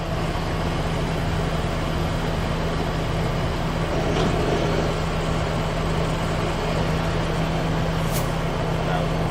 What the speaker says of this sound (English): we're rolling at 500 RPM in the low range.